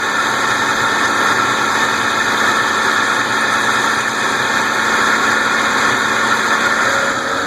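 A Honda Passport engine idles steadily after its serpentine belt and tensioner pulley were replaced, giving a close, loud, even hum with a broad whirring drone and no squeal.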